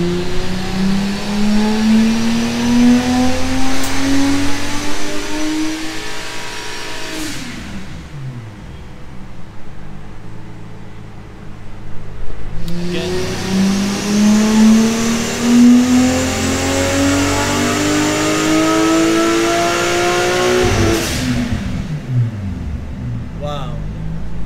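A Nissan Skyline R33 engine, tuned to around 700 bhp with a Link G4+ ECU, revs hard on a dyno in two long sweeping pulls from 2000 to 4000 RPM. The loud, rising engine note is close and steady, with talk underneath.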